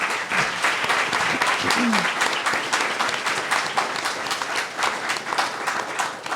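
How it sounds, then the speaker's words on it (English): An audience applauds, a dense burst of clapping that carries on steadily, with a brief voice cutting through near the start. "let's give a round of applause for our panelists."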